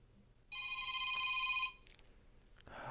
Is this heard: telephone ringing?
yes